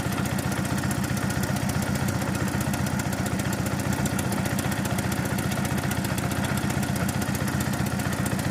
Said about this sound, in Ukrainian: я газую його